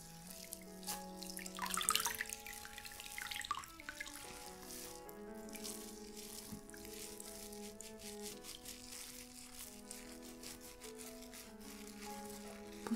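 Water runs from a shower while body scrub is rinsed off, a soft continuous hiss and splash that stays faint and even under background music, with no talk.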